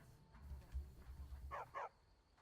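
A dog gives two quick barks a moment apart, fairly close but quiet, after a stretch of low rumbling background noise.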